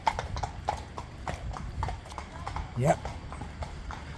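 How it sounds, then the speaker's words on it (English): Horses walk through a village, their hooves clip-clopping in a steady, close rhythm on the road, with a brief voice heard over the hoofbeats. "Some nice nice horses there, man."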